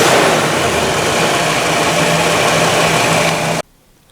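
A 1962 Chevrolet Biscayne engine, parked more than 35 years, idles steadily with a low, even rumble, close and loud, then cuts off abruptly near the end.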